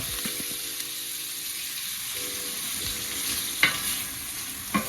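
Andouille sausages frying and sizzling steadily in a pan, a continuous crackling hiss with a few light scrapes and clinks of stirring, close and moderately loud with no talking.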